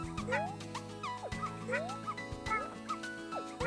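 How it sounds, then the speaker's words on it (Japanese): In the video game Yoshi's Woolly World, a cartoon puppy yips and barks in quick, bouncy repeated chirps over a looping, plinky game melody, fairly faint. "ワンワン言ってるからなんかあんのかな"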